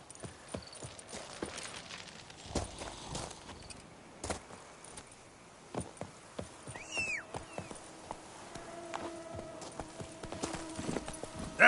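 Hooves of the horse Roach clip-clop at a steady walking rhythm in a video game, close and clear, with a brief whinny and soft ambient tones beneath.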